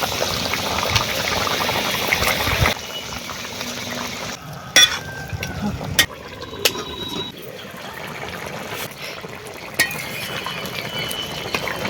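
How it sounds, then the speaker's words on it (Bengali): Fish curry gravy with green chillies, tomato, potato and bori boils in a pan, and fried fish is added, producing bubbling and sizzling with stirring scrapes, a few sharp clinks, and a quieter stretch after the first few seconds. "দেড়া কাঁচা লঙ্কা ঝোল ফুটে গেছে এবারে ভেজে রাখা মাছগুলো দিয়ে দিচ্ছি"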